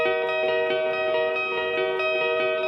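A clean electric guitar patch for a pop/rock live show rings out in sustained chords, its notes repeating and smearing into a spacious wash of delay and reverb.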